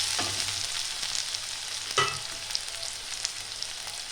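Potatoes and onions fry gently over a medium-low flame, giving a soft, continuous crackle with a few faint clinks of a utensil, fairly quiet and close, with no talking.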